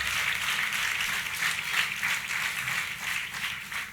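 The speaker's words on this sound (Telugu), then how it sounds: "చప్పట్లు కొట్టండి గట్టిగా" Church congregation clapping together at a sermon, a dense rhythmic patter of many hands pulsing steadily throughout, fairly loud and without voices.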